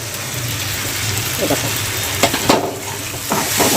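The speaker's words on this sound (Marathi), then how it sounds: "त्याला चांगलं असं तेलामध्ये फ्राय करून घेऊया मसाल्यांना" Spices and pav bhaji masala frying in oil for a dry matki curry: a constant close sizzle with a low hum beneath, broken by several clinks and scrapes of a spoon stirring in the pan near the end.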